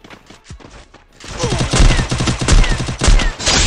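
Rapid loud shotgun blasts from a double-barrel shotgun in Free Fire ring out close by in a dense cluster after a quieter opening, with someone talking excitedly over the shots.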